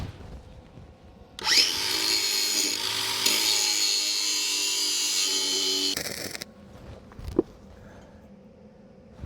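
Welding capping passes on a $500 Ford on a farm: a loud, steady crackling hiss runs for several seconds, then cuts off, leaving quieter shop noise with a sharp knock near the end.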